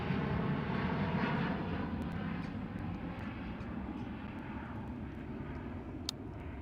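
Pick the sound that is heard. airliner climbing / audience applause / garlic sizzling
airliner climbing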